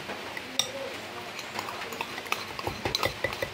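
Kids stir a mixture in a bowl, with spoon scrapes and light clinks that quicken toward the end, close by, over muffled background chatter.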